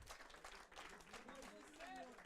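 Crowd applause for the third-place finisher at a Street Fighter IV fighting game tournament, a steady wash of clapping mixed with crowd noise and voices throughout.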